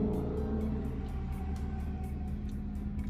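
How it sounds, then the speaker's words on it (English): Traffic rumbles past on a street beside a Burger King car park, a steady low drone of cars moving by at moderate distance with no talking. "I love the sound of passing cars."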